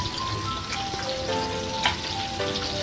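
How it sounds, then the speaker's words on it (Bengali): Fish frying in oil in a home kitchen gives a continuous close sizzle with a faint bubbling spatter, steady and alone, with a few light clinks. "মাছটা আমি ভেজে নেবো, খুব সুন্দর করে ভেজে নেবো মাছটা।"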